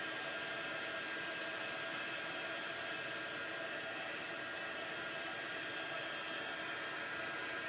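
A heat tool blows a steady, even rush of hot air while melting embossing powder, a constant close whoosh with no breaks and no voices.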